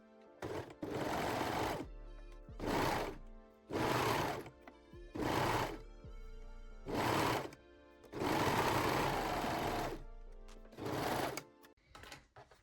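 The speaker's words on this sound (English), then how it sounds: "And sew the center back seam." A sewing machine stitches the center back seam of lace Brazilian-style panties in repeated short bursts, about eight runs separated by brief pauses, loud and close with no talking.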